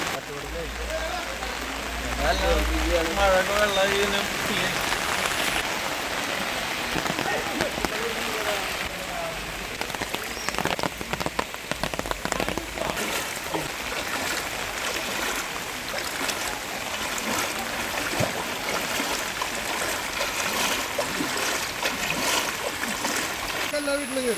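Steady rain falls during a flood in Panancheri, a dense constant patter and splash of water that continues throughout under occasional talk.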